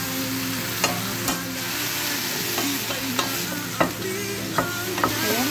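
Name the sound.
stirring food frying in a pan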